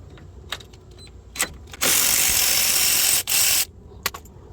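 A 12 mm ratchet wrench turns a lower control arm bolt on a third-generation Eclipse. Quick clicks of the pawl come first, then a long loud grinding burst that stops for a moment and resumes, with a few sharp clicks after it.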